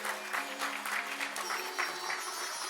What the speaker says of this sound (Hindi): जोरदार तालियों से हम इनका स्वागत करेंगे.